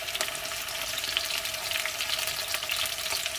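Potatoes sauté with salt in oil in a pan, giving a steady, moderately loud hiss and fine crackle throughout with no pauses.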